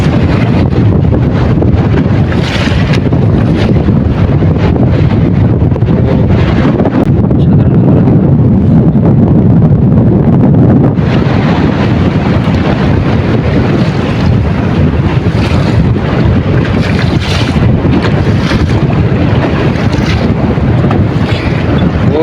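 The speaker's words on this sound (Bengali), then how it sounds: "অনেক পরিমাণে ঢেউ।" Strong storm wind roars across the microphone while waves surge and slap around a fishing boat at sea, a loud, unbroken rush lasting throughout with no talking.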